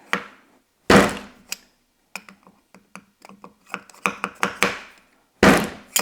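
Sharp percussive knocks of a brad nail pusher driving a brad through a 1x4 board and striking the table beneath, several loud close thumps followed by a run of lighter taps and a couple more heavy blows.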